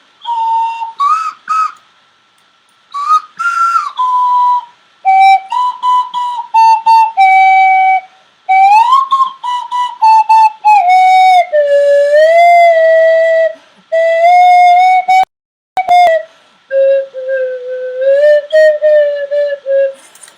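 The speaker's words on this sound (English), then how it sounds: "you all seem to be loving the Swanee whistle" A Swanee slide whistle played solo in a live session: long gliding pure tones swooping up and down in bursts with short breaks between phrases, loud and close with no talking.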